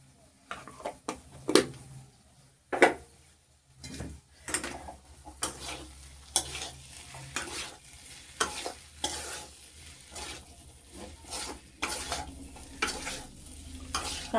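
Spoon stirring a sizzling tempering in a pan after spicy lentil powder is added, with repeated scraping strokes over a steady fry, close up and with no talk.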